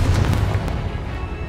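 Confringo explosion spell cast in Hogwarts Legacy, a deep rumbling blast that hits hard at the start and rolls on steadily through the short moment.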